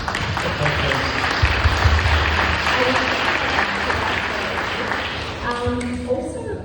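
Audience applause at a youth wellness forum, a dense sustained wash of clapping from a crowded room that carries on for several seconds before thinning out, with a voice briefly heard near the end.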